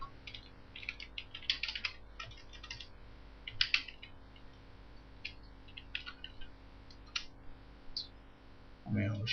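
Someone typing on a computer keyboard: sparse, fairly faint bursts of key clicks in irregular clusters, with a brief thump at the end.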